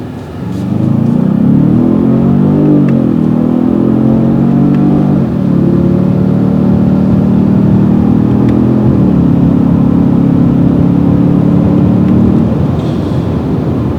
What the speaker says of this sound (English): So that was going from about 0 to 80.